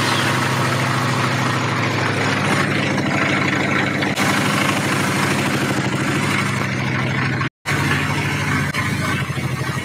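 A Honda Shadow 750 Aero motorcycle engine roars loudly and continuously during a burnout, a steady throbbing rumble with one brief dropout near the end.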